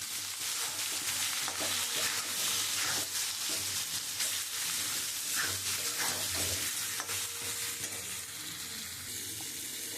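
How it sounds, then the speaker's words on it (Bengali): Chili, cumin and coriander powder stir-fry in oil as a spice base for a bhola fish curry with brinjal and potato, a continuous close sizzle broken by repeated spatula scrapes and clinks, fairly quiet, with no voices. "আমি মশলাটা দিয়ে এবার খুব ভালো করে কষাবো।"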